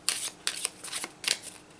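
Board game tiles being shuffled back into a stack, four quick crisp clattering bursts in a row, close and alone with no talk.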